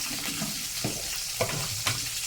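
Cashews, ginger and green chillies fry in ghee for rava pongal, giving a continuous close sizzle with a few sharp stirring scrapes against the pan.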